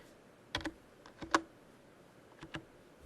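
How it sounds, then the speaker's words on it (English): A few faint, sharp clicks of computer keys as a short number is typed, spaced irregularly over a couple of seconds against a quiet background. "Let's go ahead and type in the distance across the flats"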